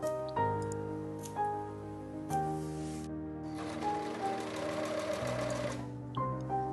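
A serger overlocks the seam edges of a princess-line pinafore in a few steady running bursts, its fast mechanical whirr stopping briefly and restarting, close and clear with no talking.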